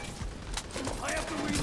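Enemies fire bursts of gunfire at a decoy in The Division 2, rapid overlapping shots cracking at mid distance over game ambience, with a voice talking over it.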